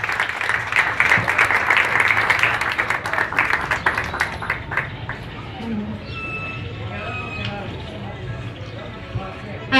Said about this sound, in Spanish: Démosle un fuerte aplauso a esta pintora